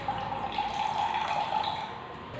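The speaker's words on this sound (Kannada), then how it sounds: "ಈಗ ನೀರನ್ನ ತೆಗಿತಾ ಇದ್ದೀನಿ." Water poured off from an instant noodle cup, a steady close splashing trickle that runs unbroken for a couple of seconds, with no voices over it.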